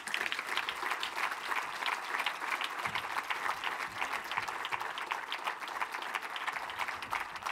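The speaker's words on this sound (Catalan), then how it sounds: "un super aplaudiment per Guillem Jordi Graells" Steady, full applause from an audience at an association's fortieth anniversary celebration, a dense continuous patter of many hands heard at moderate distance.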